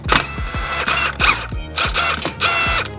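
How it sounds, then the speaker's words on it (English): Ratcheting clicks from a tool working a lug nut off a Ford Escape wheel, loud close bursts of rapid mechanical clatter in four spaced runs, with no talk. "And then we can pull off that extra lug nut"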